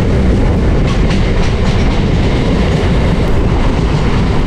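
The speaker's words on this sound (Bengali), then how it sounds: "এবার ট্রেন চলেছে ভারতের অন্যতম লাস্ট স্টেশনের দিকে।" A moving passenger train on the Sealdah–Gede line in India gives a loud, steady rumble with rhythmic clickety-clack of wheels over rail joints throughout, with no voices.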